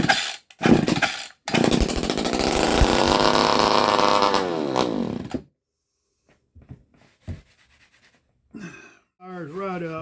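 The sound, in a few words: old boat motor starting and running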